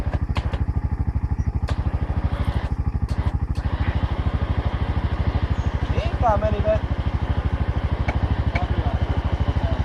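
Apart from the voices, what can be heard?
engine idling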